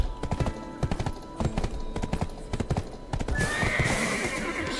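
A horse in the online game Black Desert Online clip-clops with steady, loud hooves, then whinnies near the end over a constant game ambience.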